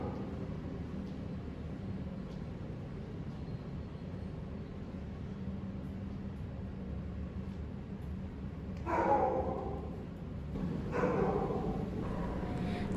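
Dogs barking in the kennel area of a Wisconsin Humane Society animal shelter, two short bursts of barking rising out of a steady background hum.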